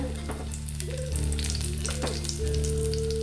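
Mustard seeds and curry leaves spluttering in hot oil for a buttermilk sardine curry tempering give a steady, close sizzle with a few brief crackles and a faint tonal hum underneath.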